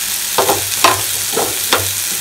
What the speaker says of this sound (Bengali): এবার এটাকে আমি ততক্ষণ ভালো করে কষাবো যতক্ষণ না মশলার থেকে কাঁচা গন্ধটা চলে যাচ্ছে